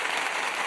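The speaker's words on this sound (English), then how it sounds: "A bit of applause as well." Brief burst of audience applause on a championship awards night, a dense wash of clapping heard close and loud for under a second.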